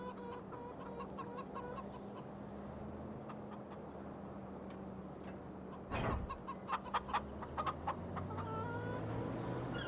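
Chickens clucking on a farm in Farming Simulator 25, a continuous low bed of fowl chatter with a sharper, louder flurry of clucks in the second half.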